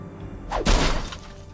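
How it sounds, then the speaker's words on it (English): A rock thrown through a window in the Jurassic Park video game shatters the glass in one sharp crash, with a bright burst of fragments that rings out and fades over about a second. "Glass breaking."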